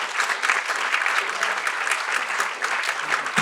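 Sustained applause from an audience at a civic service event, with many hands clapping in a thick, steady wash and faint voices underneath.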